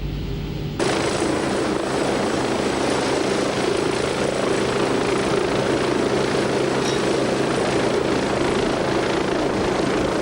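A Westland Wasp naval helicopter flies from a warship, its rotor and turbine roaring loudly and continuously after a brief quieter start, with no voices heard.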